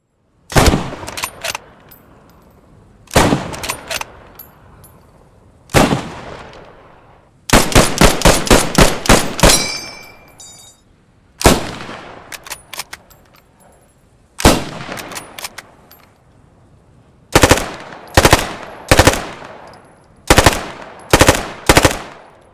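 Rapid bursts of gunfire from the video game Post Scriptum alternate with single heavy shots, loud and sharp, each followed by echoing decay; no voices.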